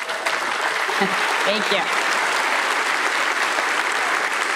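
Keynote audience applause in a conference hall, a steady wash of clapping from many hands, with a speaker briefly talking over it near the start.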